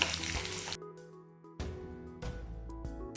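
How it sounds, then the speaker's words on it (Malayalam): Two chopped onions hitting hot oil in a pan with dried chilies and curry leaves for an egg curry, a loud sizzling hiss that breaks off and flares up again in bursts. "ഇനി ഇതിലേക്ക് നമുക്ക് 2 സവാള അരിഞ്ഞത് ഇട്ട് കൊടുക്കാം"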